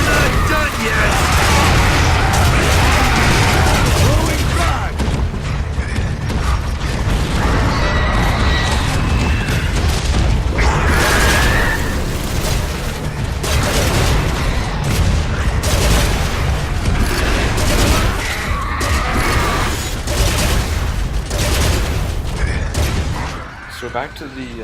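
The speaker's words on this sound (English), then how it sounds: "you have to keep alternating between the flamethrower and the shotgun" Flamethrower roars and shotgun blasts ring out in Gears of War: Judgment at Elliott's Mansion, loud bursts of gunfire and booming impacts piled over a continuous whooshing, with a voice talking throughout.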